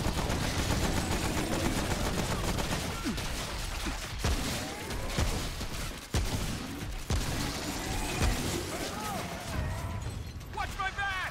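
Dense gunfire in Remnant: From the Ashes co-op play, rapid bursts and single shots layered over loud game noise and music, with a voice talking over the action throughout.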